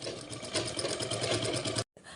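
A sewing machine stitches a fall onto a heavy work saree, running in a steady, fast mechanical whir with a rhythmic needle patter, close and even, then stopping abruptly just before the end.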